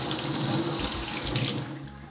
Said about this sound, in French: je rince simplement le tapis.